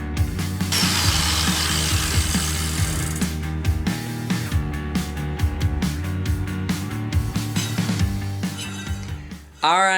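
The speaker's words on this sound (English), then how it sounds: "Now I can cut these things to shape and get rid of all these ugly angles." A power tool whines and grinds steadily as mini rock crawler brake parts are cut to shape, with rubbing and cutting noises layered over the motor and a sudden thump at the end.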